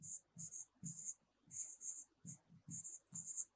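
Marker or chalk strokes on a board in a Grade 6 science lesson, a run of short scratchy squeaks in irregular bursts, fairly faint and close.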